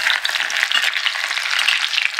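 Taro pieces with green chillies fry in a pan, giving a steady, close crackling sizzle with a bright, dense hiss that holds without pause for a couple of seconds.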